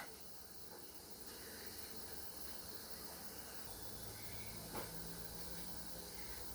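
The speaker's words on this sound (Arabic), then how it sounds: "غندير الماء يغلي باش نمرق" Water boils in a hot tagine pot, making a steady, faint, continuous hiss with an occasional soft pop and no voices over it.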